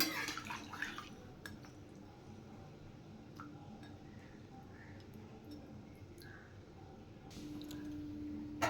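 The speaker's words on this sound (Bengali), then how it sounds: "এবার মাছটা ভালো করে ফুটিয়ে নেব" Rohu fish curry with vegetables simmers in a pot, making faint, close bubbling with small drips and light clinks, and it grows slightly louder near the end.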